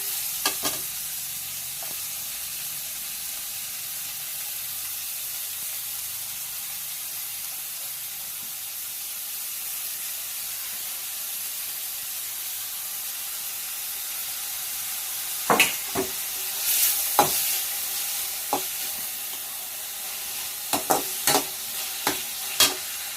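Steady loud sizzling of chopped ingredients and masala frying in a pan for crab roast, with a few sharp scraping stirs near the end.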